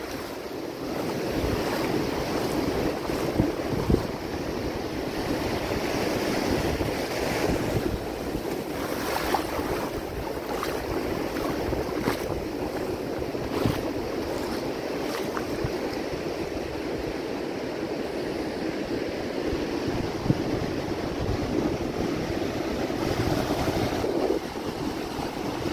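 Sea waves at Praia da Pinheira beach in Palhoça, Santa Catarina, wash in steadily with a continuous rushing surf and wind buffeting the microphone, no voices over the constant roar.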